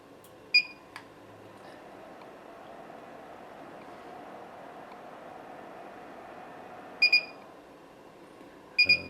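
Thermaltake Dr.Power II power supply tester in automatic mode, giving three bursts of sharp, high electronic beeps, a short one near the start and double beeps near the end, over a steady low hum.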